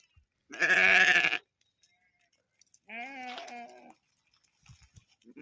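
Two loud, drawn-out sheep bleats, the first strong and close, the second a shorter wavering call a couple of seconds later, with quiet gaps around them.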